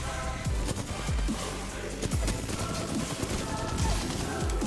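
Rapid gunfire in an Apex Legends match, a steady stream of close, punchy shots and thuds firing in quick succession under a dense game soundscape.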